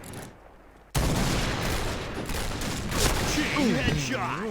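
Gunfire in the shooter game Point Blank, with rapid loud bursts of shots crackling after a quiet start, continuing densely to the end alongside bright electronic game tones.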